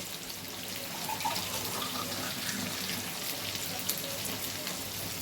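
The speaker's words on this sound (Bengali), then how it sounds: "এর মধ্যে এবার আমি জল দিয়ে দেব।" Water pours into a pan of methi fish curry on the stove, a steady broadband splashing hiss over about five seconds at moderate, even level, with no voices.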